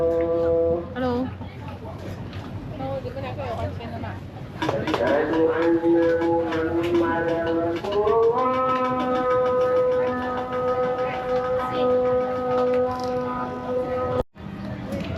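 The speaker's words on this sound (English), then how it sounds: "There's also a mosque across the street, so you can hear the call to prayer going right now." A call to prayer rings out from a mosque across the street by the Clan Jetties in George Town, Penang, as a long, wavering chanted voice over steady street noise.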